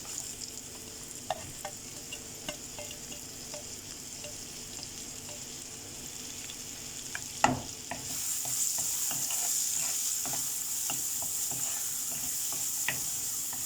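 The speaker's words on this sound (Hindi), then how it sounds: "अब इसे फ्राई करना है कि ऑनियन हमारा अच्छे से लाइट ब्राउन करना है" Chopped onion fries in a pan with a steady sizzle. A spoon scrapes and stirs it in repeated clinks, and the hiss grows louder midway through.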